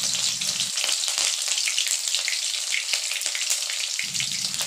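Green chillies frying in hot mustard oil in a kadai, a loud, continuous crackling sizzle close up with no talking.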